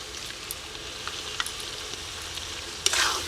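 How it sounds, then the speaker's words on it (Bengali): Spice paste with turmeric, salt and a splash of water fries in a pan for a village-style rooster curry, a soft steady sizzle with scattered spoon taps, swelling into a louder hiss near the end. "মশলাটা এবার ভালো করে কষিয়ে নিই"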